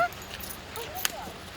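A dog gives a short yip or whimper at a distance while a person talks nearby.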